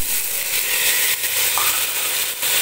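Onions, ginger garlic paste and tomato frying in a pan for moti pulao give off a steady, close, even sizzle with a soft stir scrape near the middle, and no talking.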